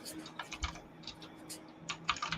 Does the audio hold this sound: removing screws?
no